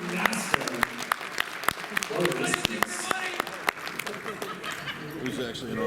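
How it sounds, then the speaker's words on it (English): Audience applause at a furry convention's opening ceremony, a crowd clapping with scattered sharp individual claps, some chuckling and murmured chatter mixed in over about six seconds. "Big round of applause for Mother Inferior."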